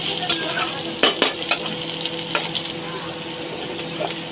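Ingredients for tarka fry in a pan while a spatula stirs and scrapes, giving a steady sizzle broken by several sharp metallic clinks and scrapes, close and fairly loud with no talk.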